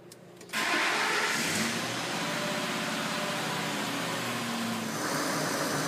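Ford F150 5.4L 3-valve V8 cranks and fires after a brief silence, then settles into a steady, loud, even idle that runs unbroken for several seconds with no talking.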